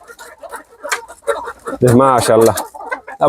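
A pair of farm roosters gives a loud, harmonic crow near the middle, with chickens clucking around it and people talking nearby.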